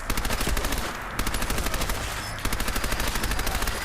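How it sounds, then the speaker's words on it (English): Rapid submachine gun fire in Fallout 4, with continuous high-rate bursts split into several long strings and only brief pauses between them, loud and close. "the submachine gun is actually quite fun to fight with. It's got a very high firing rate"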